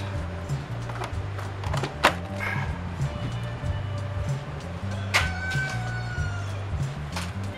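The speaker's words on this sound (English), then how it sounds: "Excuse the chickens" A rooster crows twice over the steady low idle of a 2.5-litre VW Jetta with suspected faulty fuel injectors; each call rises and wavers, the birds a short distance away.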